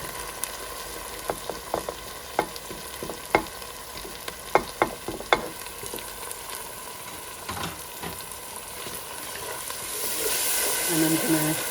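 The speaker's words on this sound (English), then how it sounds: "I'm going to cook these till the tomatoes release the oil" Chopped tomatoes and turmeric powder cook in a pan of onions and oil for chana masala, giving a steady low sizzle broken by a series of sharp stirring clicks and scrapes, with the hiss growing louder near the end.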